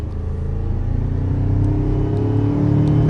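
A 2019 Ford Ranger engine rev at light five-percent throttle with a throttle response controller fitted, a loud, close low rumble that swells gradually over a few seconds, with no talking.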